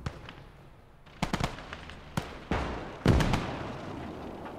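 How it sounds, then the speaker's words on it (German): Gunfire in the World War II game Gates of Hell, several sharp bursts of shots with short gaps between them, fairly loud over a steady rumbling backdrop, with no voices. "Ja, die Pack schießt auf dich."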